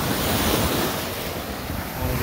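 Ocean waves rolling onto the shore at sunrise, a steady broad wash of surf with gusts of wind buffeting the microphone, close and continuous with no voices.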